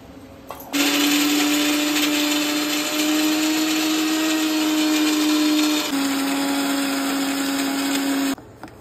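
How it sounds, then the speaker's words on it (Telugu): An electric mixer grinder whirs loudly and continuously as it grinds garam masala spices for boti sambar, starting abruptly, briefly dipping in pitch midway, then stopping cleanly. "మసాలా గ్రైండ్ చేసుకున్నాలా."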